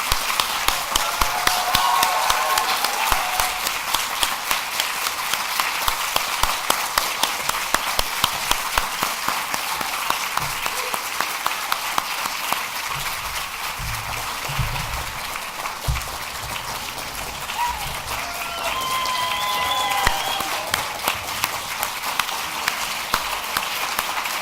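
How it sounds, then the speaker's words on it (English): A conference audience applauding, a dense sustained patter of many hands clapping that carries on for a long stretch, steady and moderately loud, with faint voices rising at moments. "So a big round of applause for Suzanne."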